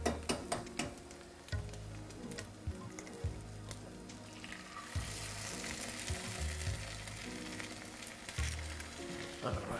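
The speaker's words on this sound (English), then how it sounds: "So we're just going to let this egg cook." An egg frying in a pan gives a steady close sizzle with crackling pops, while someone speaks briefly.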